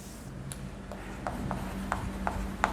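Chalk scratching across a classroom board during a chemistry lecture on colloids, a soft steady rasp with a series of sharp taps and strokes over a low hum.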